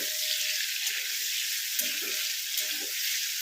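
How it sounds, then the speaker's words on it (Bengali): Prawns fry in a pan over a high flame, giving a steady, loud broadband sizzle with small bursts of crackling and stirring, heard alone without voices. "অল্প করে ভেজে তুলে নেব।"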